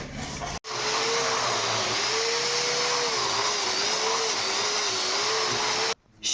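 A power wire brush scouring the steel frame rails of a tow truck under construction, a steady loud whirring grind with a wavering pitch, starting abruptly after a short gap and cutting off near the end.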